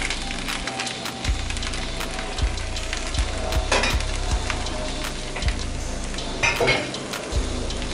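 Mushrooms fry in hot ghee in a pan, giving a steady close sizzle with regular crackles and pops, while a low rhythmic knocking runs through the whole stretch.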